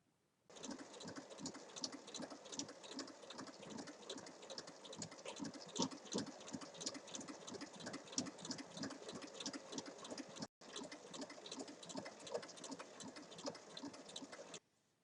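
A sewing machine runs continuously while topstitching along the bottom of a fabric bag, a fast, even mechanical patter that pauses once briefly before resuming, and no talking.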